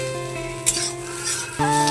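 Carrot and capsicum frying in a pan, a steady close sizzle with a brief clatter partway through and a louder burst near the end.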